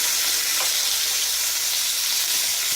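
Steak sizzling in a hot pan with oil, garlic, thyme and butter, a dense continuous frying hiss that stays loud and close throughout, with no voices.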